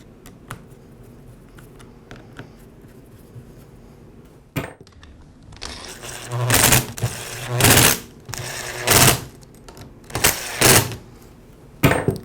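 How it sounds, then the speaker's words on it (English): A powered screwdriver drives screws into the plastic handle halves of a Ryobi string trimmer, giving several loud, close whirring bursts with short pauses between them after some faint handling clicks. "I'll go ahead and secure the handle with the 5 screws."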